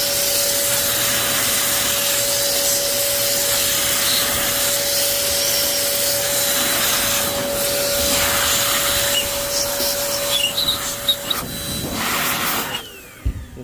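Steady hiss of compressed air blowing dust out of the side panel of a bug-infested PS5 console, continuous and close for most of the stretch, with brief clatters and a sputtering tail near the end.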